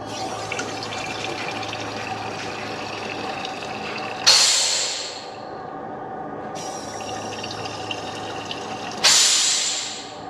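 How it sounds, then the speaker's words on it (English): Coolant pouring out of the return line on a GM Ecotec engine during an overheating fix, a steady close-up liquid splashing and filling sound with two louder gushing surges, no talking. "So we're getting straight liquid now out of the return, so that's pretty cool."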